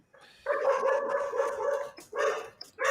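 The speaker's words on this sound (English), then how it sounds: "Dog. The dogs agree." A dog barks alone, close and fairly loud: one drawn-out, rough bark followed by two shorter ones after brief gaps.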